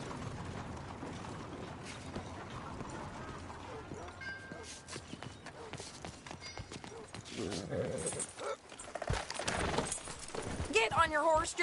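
Horse hooves clip-clop while riding in Red Dead Redemption 2, a steady rhythmic plodding mixed with creaking tack. Speech runs over it, and the hoofbeats grow louder and busier toward the end.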